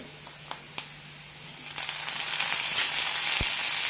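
Tomato dropped into frying onions for an okra curry, a few light clicks followed by a swelling, steady oil sizzle close to the pan.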